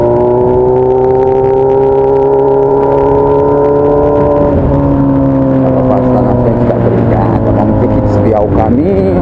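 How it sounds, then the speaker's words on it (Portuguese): A Honda Hornet motorcycle fitted with a 3-inch exhaust holds a loud, steady engine drone that dips in pitch midway, then wavers as the throttle is worked. "É só pra demonstrar mais ou menos como é que tá o escape"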